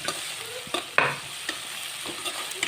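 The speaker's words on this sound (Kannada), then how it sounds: "ಅದು ಎಣ್ಣೆಯಲ್ಲಿ ಚೆನ್ನಾಗಿ ಬೆಂದ ನಂತರ ಟೊಮೊಟೊವನ್ನು ಆ್ಯಡ್ ಮಾಡ್ತಾಯಿದ್ದೀನಿ" Tomato goes into onion already frying in hot oil: a close, lively sizzle under brisk stirring scrapes, with one sharp clatter early on.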